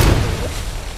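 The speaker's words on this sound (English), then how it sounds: "Oh, that's a grenade." A grenade detonates in Apex Legends as a single loud, broad blast that decays over about a second.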